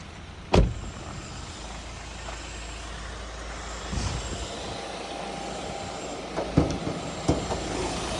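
Electric adjustment mechanism inside a Hyundai Creta SX(O) gives a faint, steady motor whir broken by a few sharp clicks and thumps, with no voices.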